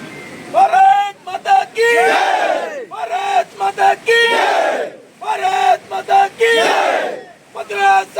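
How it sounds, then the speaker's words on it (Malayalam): A large crowd in landslide-hit Wayanad loudly chants slogans in rhythmic waves of massed voices as they welcome the army at the newly built Bailey bridge. Clapping is not distinctly audible under the chant. "സൈന്യത്തിന് വലിയൊരു മുദ്രാവാക്യം വിളികളോടെ കയ്യടികളോടെ സൈന്യത്തെ സ്വീകരിച്ചിരിക്കുന്നു ജനങ്ങൾ"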